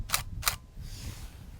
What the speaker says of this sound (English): hold down the shutter and it takes the 3 images